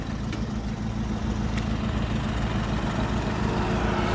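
A truck engine idles in a steady, low, continuous rumble at moderate distance, with no talking over it.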